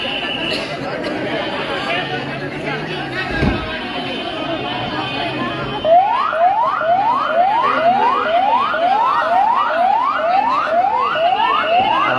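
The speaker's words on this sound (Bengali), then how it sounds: "অ্যাম্বুলেন্স যাচ্ছে" An ambulance siren passes on a street in Chuadanga, Bangladesh. It starts midway as a loud, fast series of repeated rising wails over a steady hum of crowd chatter and traffic.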